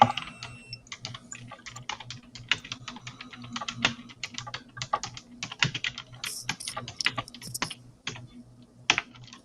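Rapid, irregular typing on a computer keyboard, with a steady stream of close, crisp key clicks and occasional louder keystrokes running for several seconds with no talking.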